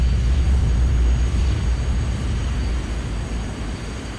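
An Aerfer Ariete jet aircraft engine in Flight Simulator X gives a loud, steady, low rumbling roar that eases off slightly toward the end.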